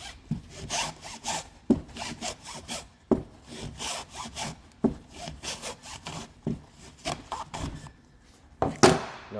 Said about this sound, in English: as soon as you feel the blade touch the metal, stop cutting there and start rolling the filter.